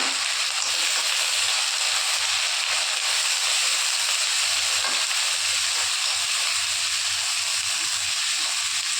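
Cumin seeds sizzling in hot oil for a ghugni tempering, a steady close hiss of frying that holds evenly and fairly loud throughout with no pauses.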